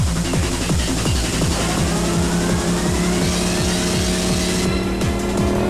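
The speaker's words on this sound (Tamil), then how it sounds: "சோக்கு பிடிச்சி ஓட்டினா மட்டும்தான் வண்டி ஓடுது." Motorcycle engine that only runs with the choke pulled, thrumming loudly and close in a fast, even pulse, with a rising whine layered over it, no speech.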